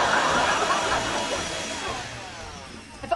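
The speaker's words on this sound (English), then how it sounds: "she's cleaning the vacuum cleaner with another smaller vacuum cleaner" A small vacuum cleaner runs steadily in a sitcom scene, used to clean a larger vacuum cleaner: a continuous breathy whirring hum close by that fades slightly toward the end.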